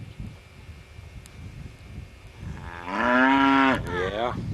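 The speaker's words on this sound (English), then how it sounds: "Here comes the cow now, I believe, looking for her baby." A cow on a 1987 homestead farm in Turkey Neck Bend gives one loud, drawn-out moo from nearby, rising over a quiet outdoor background.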